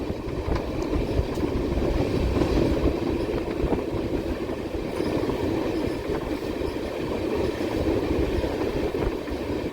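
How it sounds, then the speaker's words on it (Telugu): The Nagawali Express runs into Basara station with a loud, continuous rumble of wheels and carriages, and faint rhythmic clatter over the rails throughout, with no one talking. "బాసరా రైల్వే స్టేషన్ లాగిందండి మన ట్రైను"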